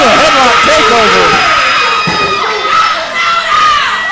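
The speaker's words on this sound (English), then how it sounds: "Crowd's going crazy for a side headlock takeover." A crowd at a ProSouth Wrestling show shouts and cheers loudly and without a break for a side headlock takeover in the ring, with high children's voices prominent in the noise.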